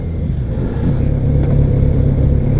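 Kawasaki Z900RS motorcycle engine running close up, a deep steady rumbling drone with slight rising revs, loud and continuous with no talk over it.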